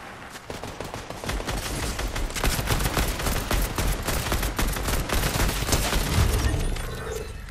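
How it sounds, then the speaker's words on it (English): Continuous gunfire in the video game Fortnite, a steady, loud stream of rapid shots and crackling bursts lasting throughout, with no talking over it. "somebody just shot at me."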